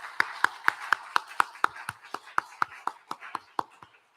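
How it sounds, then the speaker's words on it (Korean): Rhythmic congregation clapping in a reverberant church hall during an Easter Sunday service, about sixteen sharp claps in a steady beat, slowing slightly toward the end, with no talking. "우리 하나님께 영광의 박수, 또한 이들이 믿음 안에서 서도록 축복의 박수하겠습니다"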